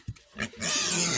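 A pig in a farm pen snorts and grunts a few times in quick bursts, then a louder rough rustling takes over; close by, with no talk.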